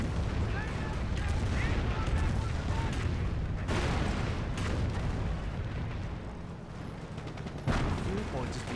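A Calliope rocket barrage rains down in the World War II strategy game Company of Heroes, a dense, sustained roar of rocket blasts and explosions that rolls on for the whole stretch with several sharper bursts, under steady background battle noise.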